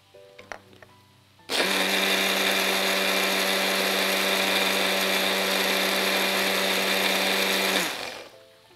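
A blender runs steadily for about six seconds, beating oil slowly into diet mayonnaise, loud and constant with a droning motor whine, starting abruptly after a few small clicks and stopping cleanly.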